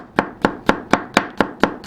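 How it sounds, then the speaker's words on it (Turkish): Garlic being chopped finely with a knife on a cutting board for Turkish egg-topped meatballs: eight sharp, evenly spaced chops in a steady rhythm, close and clear with no talking. "Şimdi sıra sarımsaklarda. Bunları da ince ince doğrayacağız."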